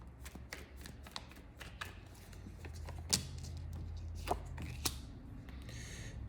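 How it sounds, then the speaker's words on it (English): Tarot cards are shuffled with a soft riffling and several crisp taps and slaps, quiet and close, over a low background hum. "One more shuffle."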